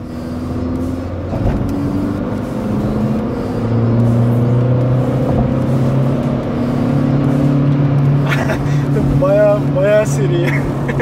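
Volkswagen Caddy accelerating at full throttle from 60 to 120 km/h, heard from inside as a steady, rising engine drone and road roar, with voices talking over it throughout.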